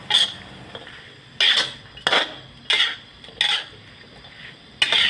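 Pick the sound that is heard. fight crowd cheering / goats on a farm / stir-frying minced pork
stir-frying minced pork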